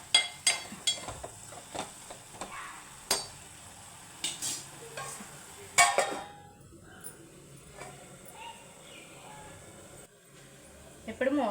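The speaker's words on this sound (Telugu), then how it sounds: "ఇప్పుడు ఇవి మంచిగా కలిపేసుకుని ఒక 5 నిమిషాలు మూత పెట్టి మగ్గించుకుందాం." A spoon stirs soya chunk curry with garam masala in a pan, giving scattered scraping and clinking strokes with a soft sizzle underneath, fairly quiet and close, with a pause partway through.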